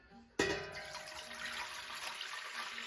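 Water from a tap or pitcher pours steadily into a quart glass jar for simple syrup, starting abruptly and running as a continuous close rush with no talking.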